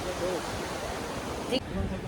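A stream runs beside a mountain footpath on the Tarakot route of the Vaishno Devi pilgrimage, producing a steady broadband rush of flowing water with a brief clack near the end.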